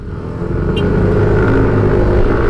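A Yamaha NMAX Turbo scooter accelerates hard at full throttle on a wide, empty road, its engine a loud, steady rising drone that holds close and continuous without a break.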